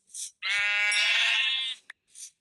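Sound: sheep bleating in Minecraft video game

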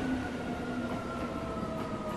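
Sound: train stopping in a Fortnite horror map, video game

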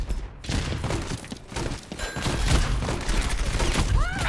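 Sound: gunfire in the video game Overwatch

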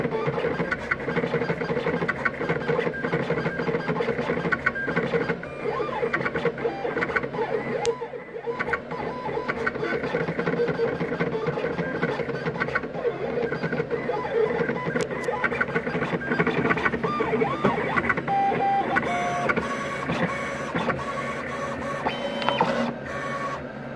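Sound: Roland CM-24 vinyl cutter cutting out a design

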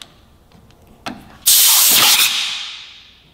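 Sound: air compressor blowing air under motorcycle grip

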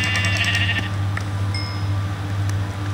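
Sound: sheep bleating in a video game

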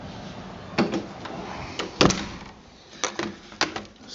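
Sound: opening the door of a Swedish fire torch stove

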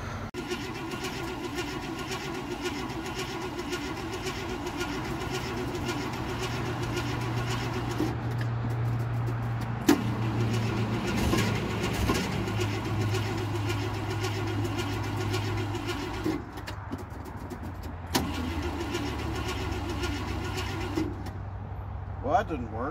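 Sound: old car engine cranking, trying to start

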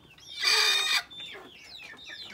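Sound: brooding hens clucking in their nest

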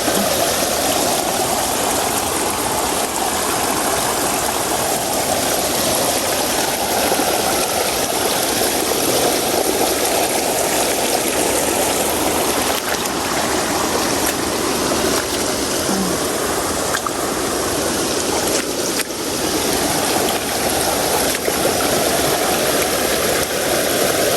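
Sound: river water overflowing strongly

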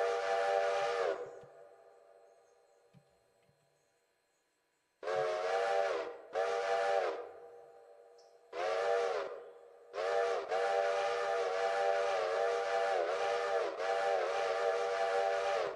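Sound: train quill whistle in Railroader video game

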